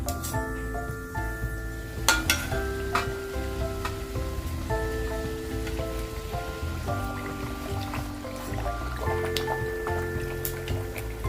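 Red pumpkin gharge fry in hot oil, crackling and bubbling close up in a steady patter like light rain, with a few sharp clicks and taps scattered through and no talking.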